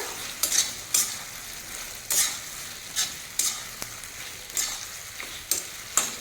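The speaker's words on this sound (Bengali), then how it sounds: "এখন দিয়ে দেবো একটু গোলানো কর্নফ্লাওয়ার। ভালো করে একটু নাড়িয়ে মিশিয়ে দেবো।" Chili chicken with cornflour slurry is stirred in a hot pan, a spatula striking and scraping in sharp bursts about once a second over a constant close frying sizzle.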